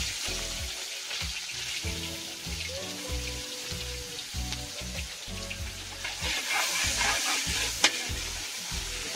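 Onions fry in a pan with a steady sizzle, broken by repeated stirring scrapes in an uneven rhythm. The sound is close and moderately loud, with no voices.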